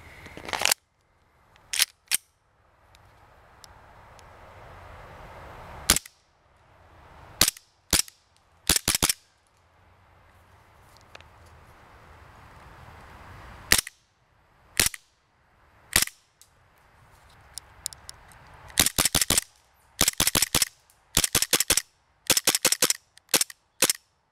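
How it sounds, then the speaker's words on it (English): An Echo 1 Timberwolf gas blowback airsoft pistol fires sharp, loud cracks, first as spaced single shots and then in quick clusters toward the end, with quiet gaps between. "this video wouldn't be complete without a shooting demonstration, so I'm going to show you guys right now"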